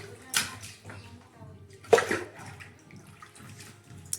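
Water splashes over a toy doll during a pretend bath in a few short, soft pours and sloshes, faint and close, while people talk quietly nearby.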